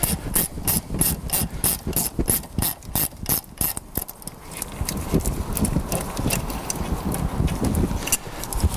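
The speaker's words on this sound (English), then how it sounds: "Now we can undo the top bolt." A ratchet wrench undoing the brake caliper bolt on a Range Rover Sport, with a fast run of close, sharp clicking strokes that gives way to a looser, irregular ratcheting and rubbing.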